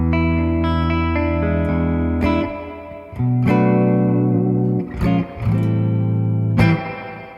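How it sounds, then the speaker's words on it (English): Fender Jazzmaster electric guitar played through a Fender Deluxe Reverb amp with reverb and an Oceans 11 reverb pedal, strummed chords ringing out with several sharp attacks and long washy decays, with no talking. "It's just got that signature JAZZMASTER sound"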